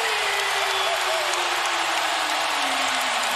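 A basketball arena crowd roars and applauds after a drive by Jayson Tatum of the Boston Celtics against the Philadelphia 76ers. The steady, loud wash of cheering is accompanied by a faint rising whistle-like tone.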